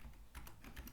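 A computer keyboard is tapped while a new folder name is typed, giving a few quick, soft clicks close by in a short uneven burst.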